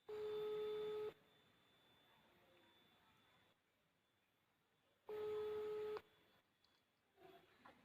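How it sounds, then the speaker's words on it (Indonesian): A telephone signal sounds as a loud steady tone in two bursts about a second long, separated by several seconds of quiet low hiss, followed by faint rustling. "Losa akan telepon Arwen."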